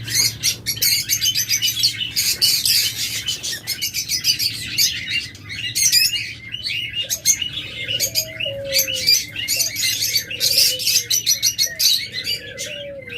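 Pet yellow-headed lovebirds in a pair chirp in a busy, continuous chorus of sharp, high tweets, close and loud. Softer cooing from doves sounds in the background.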